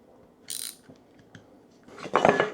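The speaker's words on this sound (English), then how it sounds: "I'm going to finish tightening this one down" A ratchet tightens a bolt on a Jeep Gladiator seat bracket in two short, close bursts of quick clicking separated by a quiet pause, the second burst louder and longer.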